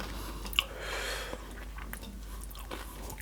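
Crunchy food being chewed up close at a Thai meal with bamboo shoots and som tam, soft repeated crunching bites over a low background hum, faint and intimate.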